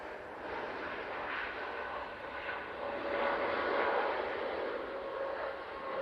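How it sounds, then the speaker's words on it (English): A TUI Boeing 787 Dreamliner on final approach to land at Manchester Airport gives a steady, moderately distant jet roar that swells slightly midway and holds throughout. "Beautiful flex on that TUI Dreamliner. Playing on final."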